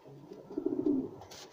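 Pigeons cooing in a loft during moult, a soft, low, rounded coo rising in the middle and fading, fairly close and otherwise quiet.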